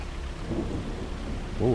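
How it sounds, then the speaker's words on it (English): A low rumble of thunder rolls beneath steady rain in a Farming Simulator 25 storm, faint and distant, with no one talking. "Oh, what a bit of thunder."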